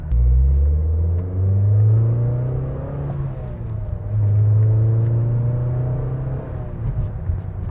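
Mazda NC Miata engine fitted with a Goodwin header and muffler: a loud, close, deep exhaust drone that swells and eases over several seconds, with no one talking.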